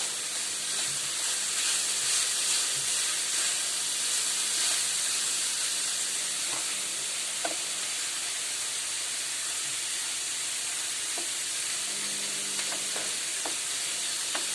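Pumpkin and onion cook in a pot, giving a steady close steam hiss and soft sizzle that runs throughout, with a few faint clicks and stirring sounds.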